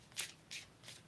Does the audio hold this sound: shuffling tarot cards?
yes